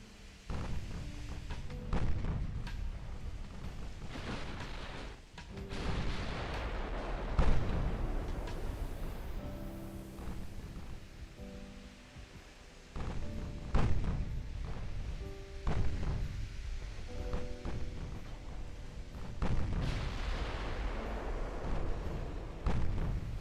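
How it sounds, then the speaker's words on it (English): In the naval game Ultimate Admiral: Dreadnoughts, a torpedo hit on a ship comes through among rumbling booms and bursts of shellfire, several dull explosions spread over twenty seconds, fairly faint and distant with low tonal hums between them. "Torpedo hit? I heard a torpedo hit."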